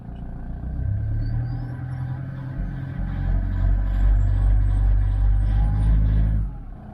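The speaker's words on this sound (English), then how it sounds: "You hear the engine." A Toyota Land Cruiser Prado 120 engine with fault code P0045 idles with a low, uneven rumble that swells louder midway before cutting off near the end.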